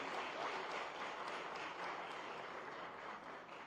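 Faint, steady applause from an audience welcoming an invited speaker at a formal event, heard distant and continuous throughout.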